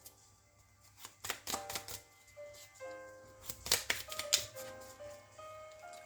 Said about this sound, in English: I'm just going to give it a good shuffle